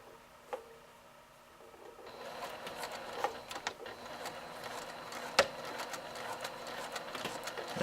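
A sewing machine stitches hammock fabric slowly after a few quiet handling clicks, its motor starting to whir with a fast mechanical patter that continues at moderate volume close by, with no talk.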